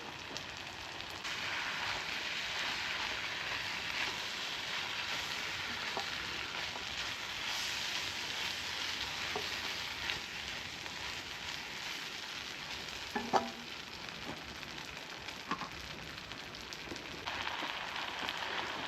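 Noodles and sauce sizzle hard in a hot wok as alcohol cooks off for gluten-free drunken chicken noodles: a steady, loud, close frying hiss with no pause and a few small pops and clinks.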